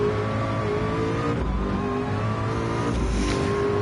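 A McLaren race car engine in a Le Mans virtual reality racing game roars as it accelerates, holding a loud, continuous drone with rising revs and no talk.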